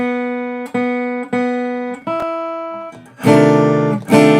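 An acoustic guitar rings out unamplified: several single plucked notes that decay slowly, then two loud strummed chords near the end.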